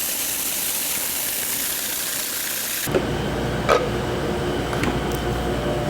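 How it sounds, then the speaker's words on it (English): A Robot Coupe food processor grinds cocoa nibs for nougatine with a steady whirring drone, which changes pitch partway through and keeps a continuous motor hum with faint clicks. "I'm going to put in a robot coupe just to grind a little bit of the cocoa nibs."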